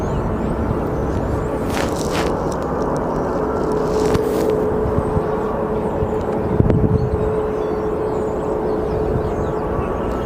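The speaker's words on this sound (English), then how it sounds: "There it is. Good old Spirit Airlines." A Spirit Airlines jet at Sky Harbor Airport sends a steady, loud broadband roar with a faint high whine, heard at a distance and continuous throughout.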